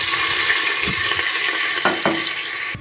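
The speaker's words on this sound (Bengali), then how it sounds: "তেলটা গরম হয়ে গেছে আমি মশলা দিয়ে দিচ্ছি" Spices frying in hot oil in a kadai, a steady close sizzle with a few sharp crackles and stirring scrapes near the end, no voices.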